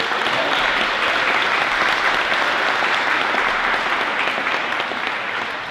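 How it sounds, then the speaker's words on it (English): An audience at the St Marys High School awards ceremony applauds the seniors, a dense, steady wash of clapping that holds for several seconds and eases off slightly at the end, with no voices over it. "So let's give them a round of applause."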